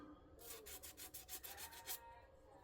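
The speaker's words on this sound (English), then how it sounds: "So I'm going to take my little hand sander here" A small hand sander rubs over the edges of a wooden piece to distress it, giving about eight quick rasping strokes in a short burst before stopping.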